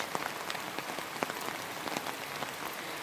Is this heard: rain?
yes